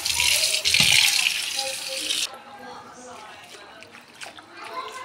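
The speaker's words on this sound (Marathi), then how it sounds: "आता आपण हा स्वच्छ कढीपत्ता धुवून घेऊया." Curry leaves rinsed under a running kitchen tap, with a bright, rushing stream of water splashing for a couple of seconds before it shuts off, leaving quieter kitchen sounds.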